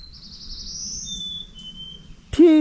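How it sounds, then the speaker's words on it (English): Birds call in the woods, with a thin, high whistled note gliding upward and a second steady tone, then a brief burst of clattering noise at the end; chickadees are named as the callers. "Those chickadees are saying TJ."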